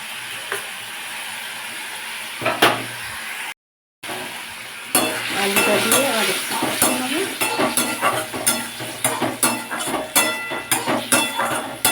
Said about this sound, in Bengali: এবার আমি আলুটা দিয়ে দেবো মশলা কষতে কষতে